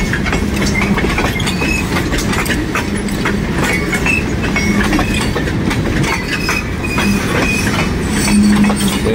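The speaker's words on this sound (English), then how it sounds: "This is the empty grain train right here." A long, empty CSX freight grain train rumbles past close by at a station, wheels clattering rhythmically over rail joints with occasional faint squeals, loud and continuous.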